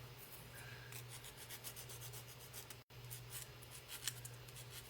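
Hand sanding a surface, soft repeated abrasive rubbing strokes close by, quiet and steady under a low hum, with one brief dropout partway through.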